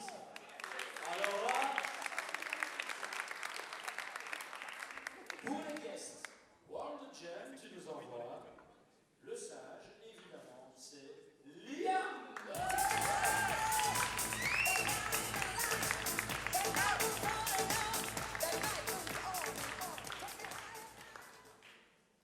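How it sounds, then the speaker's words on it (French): At a slam poetry competition, voices, laughter and scattered cheers come first. A loud, sustained burst of audience applause then sweeps in and keeps going to the end, fading slightly in the last moments. "Ça s'applaudit, ça."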